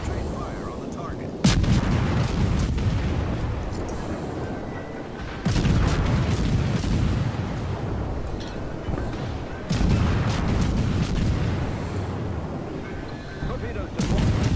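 Naval gunfire from a German tier 3 destroyer, G-101, in World of Warships: three heavy booming salvos, each followed by a rumbling decay, spaced several seconds apart over a low battle drone.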